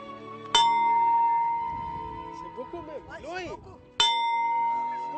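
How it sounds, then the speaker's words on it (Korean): A church bell struck twice in an outdoor village setting in Chad, each stroke a bright clanging hit with a long ringing decay; people talk over the fading tone between the strikes. "맑게 울려 퍼지는 종소리"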